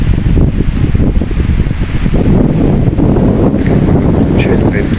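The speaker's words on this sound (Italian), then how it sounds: "Fortuna che c'è sto ventarello veramente." Strong wind buffets the microphone on a beach at Corralejo, Fuerteventura, a loud, constant roaring rumble with gusty surges and faint distant sounds beneath.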